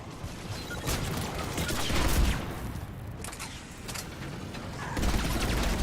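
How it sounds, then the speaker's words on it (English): Sustained gunfire in Mass Effect 3 multiplayer as a player shoots at a Scion enemy, dense rapid bursts rolling on for several seconds with a brief lull midway, loud and continuous. "I'm shooting a Scion"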